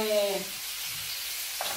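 Carrot goes into a frying pan with bacon and spinach, producing a soft steady sizzle with a brief stirring scrape, after a short tonal sound at the start.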